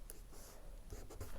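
A pen scratches across the paper of a journal while a December spread is being decorated, soft close strokes coming in short bursts over quiet room tone with no talking.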